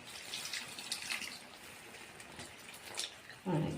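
Water pours and splashes faintly in a steady trickle into a cooking pan, ending with a brief louder clatter near the close.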